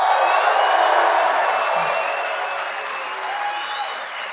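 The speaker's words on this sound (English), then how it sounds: "One more time, round of applause," An audience gives a round of applause during a live interview event with Khabib Nurmagomedov, a dense, even wash of clapping and crowd noise that holds steady and fades slightly toward the end.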